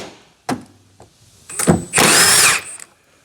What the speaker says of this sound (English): Get your impact gun on your socket, whatever you're using.